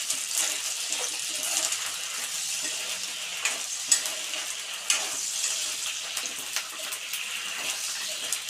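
Green chillies frying in a pan for mint chutney, a moderate steady sizzle with scattered soft pops and crackles, fairly close and without talk.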